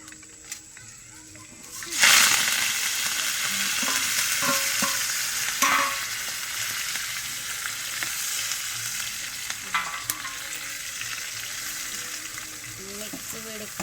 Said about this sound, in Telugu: క్యారెట్ వేపుడు చేసుకుంటున్నాను ఇప్పుడు.